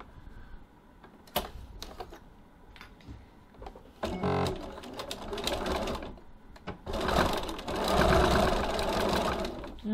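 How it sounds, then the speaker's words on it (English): A sewing machine runs in several short bursts, basting strap tabs onto a bag body panel at a 2.4 stitch length, stitching back and forth across them with brief pauses between runs. "now I'm going to baste my strap tabs in place, 6mm or 1/4 of an inch from the edge of the body panel"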